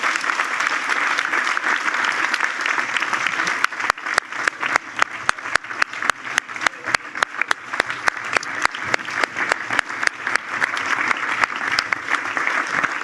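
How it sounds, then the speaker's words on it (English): An audience gives prolonged applause to October 7 survivors at an event, a loud sustained wash of clapping that turns into sharp rhythmic unison claps partway through. "So we'll give them one more huge round of applause"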